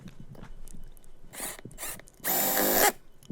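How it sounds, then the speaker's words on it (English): A cordless power drill whirs in two short bursts, a brief one and then a longer steady run, boring pilot holes for cabinet knobs and pulls, close and alone with no talking. "I use the drill to do a pilot hole"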